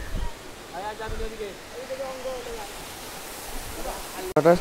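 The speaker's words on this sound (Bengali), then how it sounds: "আর এখানে এরকম ঝর্ণার জল গড়িয়ে পড়ছে।" A waterfall in Darjeeling gives a steady, broad rush of falling water under a person talking, continuous and moderately loud throughout.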